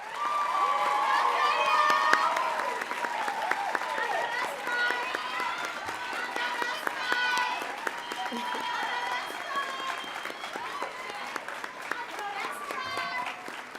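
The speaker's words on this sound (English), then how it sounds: "Let's give Taya another round of applause" Audience applause and cheering at a student awards ceremony honoring an outstanding student, steady clapping from a crowd that carries on for the whole stretch, mixed with shouts and voices.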